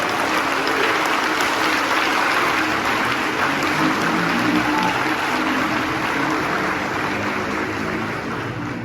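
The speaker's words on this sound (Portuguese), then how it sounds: "Se você crê nisso, aplauda o Senhor." A church congregation applauds during a sermon, a dense, continuous wash of clapping that holds steady and fairly loud throughout, with no voice over it.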